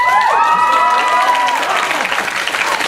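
A convention panel audience in a hotel grand ballroom applauds and cheers, a dense burst of clapping with whoops and voices layered over it, loud and sustained before easing slightly toward the end.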